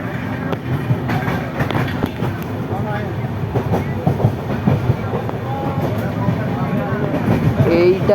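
The Coromandel Express rolls steadily over the rails between Bengal and Odisha, its continuous rumble and clickety-clack heard from inside the carriage along with faint background chatter.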